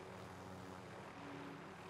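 A helicopter in Call of Duty: Modern Warfare 2 drones with a steady rotor and engine hum, faint and continuous across the short span.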